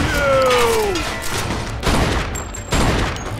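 Gunfire in the Mafia II video game, a loud burst of shots early on followed by further scattered shots and impacts, with a descending tonal sweep at the start and no talk.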